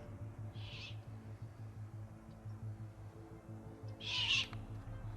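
Two high, raspy owl screeches, a brief faint one early and a louder, longer one near the end, over a steady low rumble of distant machinery.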